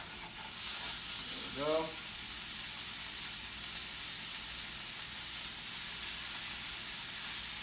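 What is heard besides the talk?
sliders sizzling in an oiled cast iron pan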